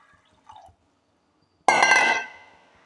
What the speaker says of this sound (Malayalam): ഇനി ഇതിലേക്ക് നമുക്ക് കുറച്ച് വെള്ളം ഒഴിച്ചു കൊടുക്കാം കേട്ടോ.